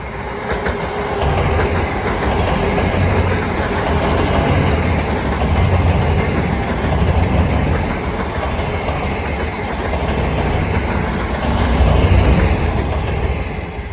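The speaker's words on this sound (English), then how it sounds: "here comes train 1953 en route from Ronkonkoma to Penn Station" A Long Island Rail Road train, number 1953 bound from Ronkonkoma to Penn Station, rolls in slowing for its Mineola stop on the Main Line, a loud, steady rumble with rhythmic clickety-clack of wheels over rail joints throughout, no talking.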